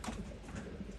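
Domestic pigeons cooing outdoors in Berlin, a soft low repeated coo with faint chatter of other birds, continuous and fairly quiet throughout.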